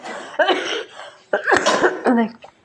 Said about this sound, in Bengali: কত কাশি হচ্ছে